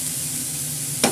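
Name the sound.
stirring cauliflower with salt and turmeric in a pan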